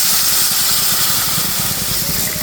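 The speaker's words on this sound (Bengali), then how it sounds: "এখন দিয়ে দিলাম গরম জল।" Hot water poured into frying masala and oil produces a loud, steady, hissing sizzle with a bubbling crackle underneath, continuous and close.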